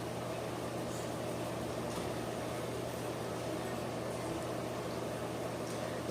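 An electric fan blowing nearby while quail is prepared and parsley is sprinkled. It gives a constant low whir with a steady hum underneath, even and unbroken throughout.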